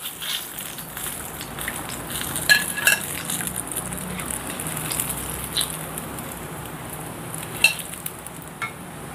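Stuffed brinjal bajji fry in hot oil with a steady low bubbling hiss. A couple of sharper utensil clinks come through as the pieces are turned.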